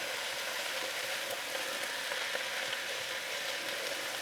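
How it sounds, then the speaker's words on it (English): Tomato paste fries with the onions and meat for a Vienna goulash, giving a steady, dense sizzle with faint crackles. The sizzle stays even and close throughout, with no talking. "And I fry this all together now for a minute"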